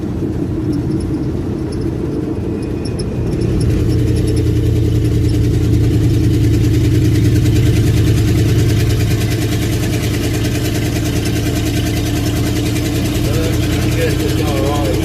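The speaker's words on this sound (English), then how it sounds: "I'm giving it quite a bit of throttle, that's when it's got that dead spot in the carburetor." Carbureted engine held under heavy throttle while the vehicle cruises near 35–40 mph, a steady low rumbling drone that swells slightly after a few seconds, with a voice talking over it throughout.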